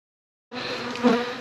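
Dense, close buzzing of honey bees swarming up from an opened beehive with honey supers, starting abruptly and holding as a loud steady drone.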